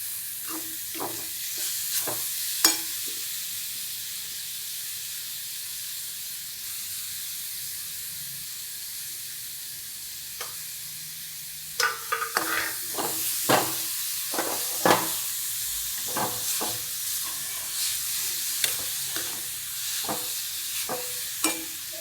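Finely chopped radish sautés in a pan with roasted green chilli and turmeric, a steady soft frying hiss with a louder sizzle partway through and scattered scraping stirs throughout, close and unaccompanied by talk.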